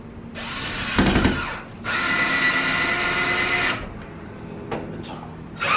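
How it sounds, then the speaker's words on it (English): A power drill bores into a wall stud to mount a Rachio 3 sprinkler controller, close and loud in two main bursts, a short high whine followed by a longer steady run, then a few quieter taps and handling sounds. "I'm going to drill the top in first, as that's going to hit the stud."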